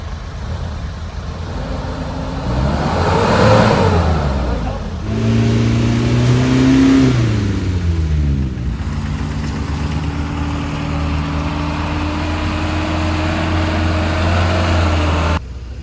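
A car engine revving hard while stuck on a muddy off-road camping track, rising and falling through several loud surges before settling into a steady strained drone, close by with faint voices.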